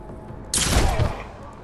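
Gunfire from a shot taken in Mutant Year Zero: Road to Eden, a single loud crack with a booming low tail that fades out quickly after a short quiet lead-in.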